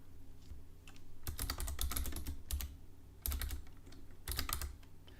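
Keystrokes on a computer keyboard as a file name is typed for a Python project, in three quick bursts of clattering taps separated by short pauses, close and fairly loud with no voices.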